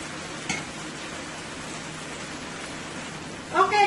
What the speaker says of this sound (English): I'm going to let this fry for about another minute